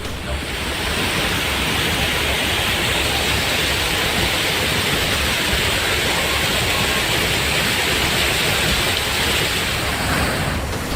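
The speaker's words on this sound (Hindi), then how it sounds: "ये नौहट्टा के महादेव खोह के पास गिरने वाले झरने की भयावह तस्वीर है।" A famous waterfall near Mahadev Khoh in Nauhatta, Rohtas, swollen in flood, roars as a steady, dense wash of falling water, loud and continuous throughout with no voices.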